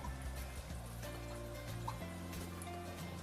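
Alkaline water from a Panasonic ionizer pours in a steady, soft trickle, a faint continuous liquid stream with slight shifts in pitch as the vessel fills.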